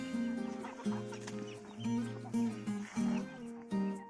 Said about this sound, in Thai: ก็คือไก่บ้านอีกส่วนหนึ่งที่ผมขังไว้